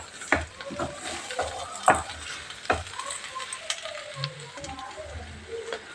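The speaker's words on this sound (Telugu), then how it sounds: "కొంచెం బాగా ఫ్రై చేసుకుందాం రైస్ని, ఒక 5 మినిట్స్." Plain white rice, not basmati, being fried and stirred in a pan for chicken biryani, with scraping spoon strokes over a steady sizzle.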